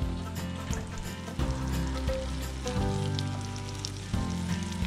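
Prairie chicken breasts fry in a pan of butter and oil while being basted, making a steady, fairly loud sizzle that stays continuous throughout with no voices.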